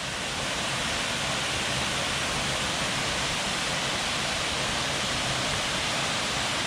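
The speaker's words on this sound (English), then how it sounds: "Yet another waterfall on this trail" Falling water from a waterfall along the Van Hook Falls trail gives a steady, dense rushing hiss, even and unbroken throughout, with no voices.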